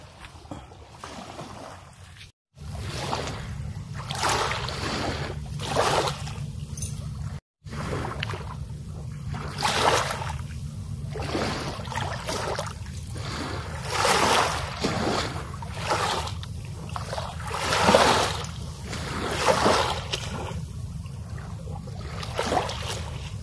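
Waves wash and splash on a beach of large black rocks at San Roque Beach, in a repeating surge and retreat, steady and fairly close, with no talking over the water.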